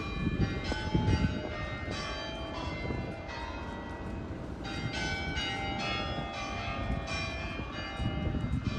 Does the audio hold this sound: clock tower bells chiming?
yes